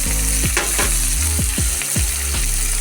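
Ground spices and torn chillies fry loudly in oil and are stirred repeatedly for a fish-head muri ghonto, a continuous close sizzle broken by regular scraping strokes of the spoon.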